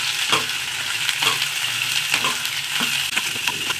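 Onion, garlic and a green chili roasting in oil for red chutney, a close continuous sizzle punctuated by rhythmic scraping stirs every half second or so.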